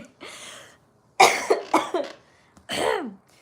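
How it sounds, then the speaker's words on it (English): A few sharp coughs in quick succession, close to the microphone, followed by a short pause and one more hoarse cough. "today, out of the blue, I started coughing"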